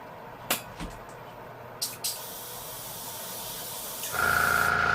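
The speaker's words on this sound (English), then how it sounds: "Let me increase the PSI on the compressor a bit" Airbrush fed by an air compressor, with a couple of short sharp bursts of air early on, then a steady close hiss of spraying that grows louder and holds to the end, with no talking.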